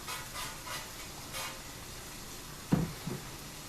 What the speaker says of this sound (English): give it a little spritz